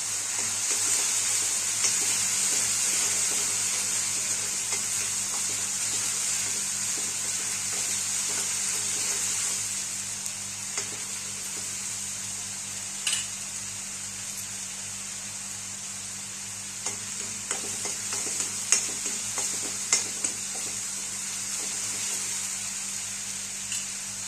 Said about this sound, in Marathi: खोबरं भाजत आलं.